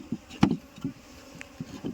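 Aggressive Apis cerana honeybees buzz in a swarm while being moved into a cultivation box, with close irregular bursts of wingbeat hum and brief louder swells as individual bees pass near, without talk.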